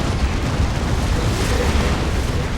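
A tank is destroyed in Dawn of War 2, a Warhammer 40k strategy game, setting off a dense, roaring explosion that fills the whole stretch with loud, sustained rumbling noise and no clear break.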